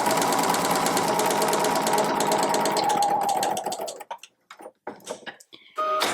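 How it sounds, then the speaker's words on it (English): A sewing machine stitches partway across the bottom of a fabric tote bag in a fast, steady whir that stops about two-thirds through, leaving a few short mechanical clicks and bursts. "You're going to sew part of the way across the bottom."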